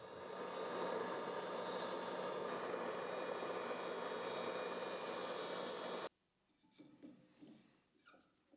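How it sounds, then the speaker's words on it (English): A non-hardened steel shaft ground on a grinder gives a loud, steady, dense hiss and whine for about six seconds, then stops abruptly, leaving faint scattered workshop noises. "I'm just going to ignore that fact and grind it anyway"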